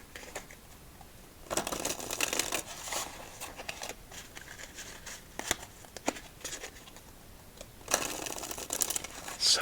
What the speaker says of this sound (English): Such a nice and sturdy shuffle.